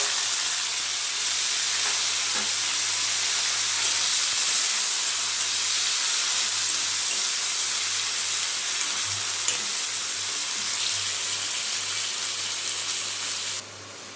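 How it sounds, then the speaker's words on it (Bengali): Chopped onions fry in a pan of oil already seasoned with cumin and cinnamon for a duck curry. A loud, steady, close sizzle and hiss runs unbroken, then drops suddenly at the very end. "এবার আমি কেটে রাখা পেঁয়াজগুলো ভালো করে ভেজে নেব।"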